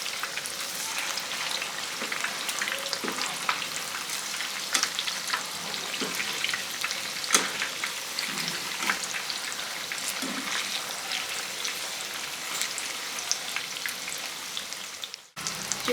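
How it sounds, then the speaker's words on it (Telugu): Chicken lollipops frying in hot oil give a steady, dense sizzle with crackles and pops throughout, loud and close, with no talking, until the sound cuts off abruptly near the end. "ఇప్పుడు వీటిని మంచి కలర్ వచ్చే వరకు ఫ్రై చేసుకోవాలి."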